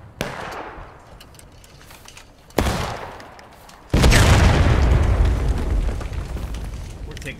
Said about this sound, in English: We're taking heavy artillery fire, but they ain't hitting us much.